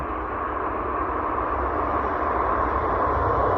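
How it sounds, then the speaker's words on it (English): A train passes somewhere off in the distance on a morning or evening walking and biking route, a steady broad rumble that holds level throughout with no voices over it. "You hear a train in the background going right now."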